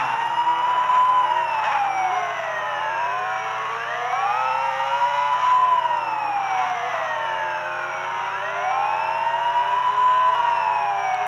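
A police car siren in the mobile game Run Away Brazil wails in long, loud rising and falling sweeps, repeating steadily with no talking.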